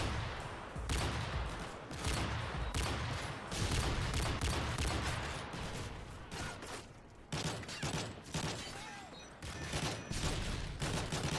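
Video game gunfire rattles in dense automatic bursts, loud and close, with a short gap before another volley resumes; no talk.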